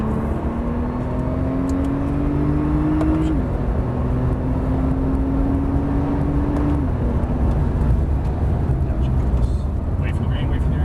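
A Porsche 911 Turbo accelerates hard out of a corner, engine note rising and dropping twice through gear changes, with a loud rumble of road and wind noise throughout.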